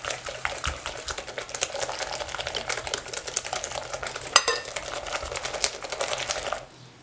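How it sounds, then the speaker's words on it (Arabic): Eggs being beaten in a bowl for moist madeleines, a steady run of quick close scraping and tapping strokes that continues for several seconds before stopping abruptly near the end. "كنخلطوا البيض هكا واحد شويه"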